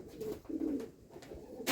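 Young wood pigeon chicks being rescued and fed in a village produce soft, low cooing murmurs in short close bursts, ending with a sudden louder rustle.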